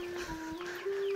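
Chickens cluck in a farmyard in a short burst of close, sustained fowl calls with a low background murmur.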